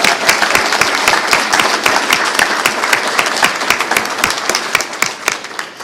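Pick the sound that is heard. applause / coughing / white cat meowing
applause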